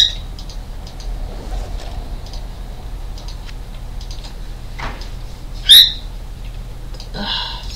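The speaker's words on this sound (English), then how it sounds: "My bird, he was talking. And I knew he was going to start screeching." A pet bird gives one sharp, loud screech partway through, with a few fainter chirps around it over a low, steady background hum.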